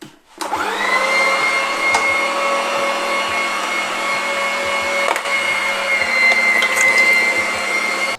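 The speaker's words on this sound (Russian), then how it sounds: "Один раз пропустил, поставил мелкую сетку и пропускаю фарш еще раз." An electric meat grinder minces pork, running with a steady, loud motor whine and hum close by. A few soft clicks and squishes sound over the drone.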